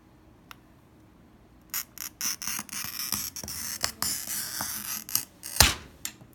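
A glass cutter scores Tiffany-style art glass, giving a quiet start and then a close, crackling, gritty scratch broken into short bursts, ending with a sharper snap-like accent.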